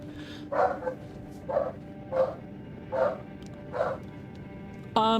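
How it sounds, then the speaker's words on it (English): A dog barks six times from indoors nearby, the sharp woofs evenly spaced about a second apart over a low background hum, with no talking. "I heard my dog bark and I want to make sure they are okay."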